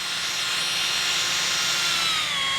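A Würth DBS 3600 air tool running steadily close by, a loud high whine whose pitch slowly falls as the RPM drops, with no talking.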